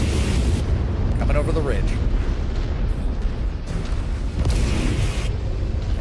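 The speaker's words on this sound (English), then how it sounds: "You got missiles coming towards you" Missiles explode in a MechWarrior video game as loud, rumbling booms and blasts that overlap and roll on with little pause. Someone talks over the heavy explosions throughout.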